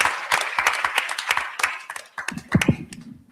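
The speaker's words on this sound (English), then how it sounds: "could we have a round of applause" A conference audience bursts into dense, steady applause of many hands clapping at once. It thins into scattered louder claps before dying away.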